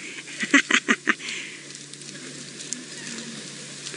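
A burst of four or five harsh, raspy alarm calls from francolins in quick succession, loud and close, followed by quieter background rustling.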